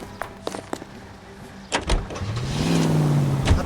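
Car starting up and driving off in the video game L.A. Noire, a door thud followed by an engine rising in a steady whine, close and moderately loud, with brief clatter before it.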